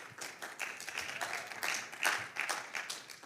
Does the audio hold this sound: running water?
no